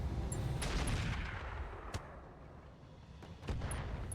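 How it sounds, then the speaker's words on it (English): Distant artillery shots boom in RogueTech, a BattleTech mech combat game. A few sharp blasts stand out from a steady rumble of battle noise. "we're getting some awkward artillery shots there"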